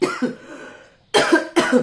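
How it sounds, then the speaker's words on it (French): A soft throaty sound fades out, then after a brief pause two sharp, loud coughs follow in quick succession, close to the listener. "Vous voyez, je tousse."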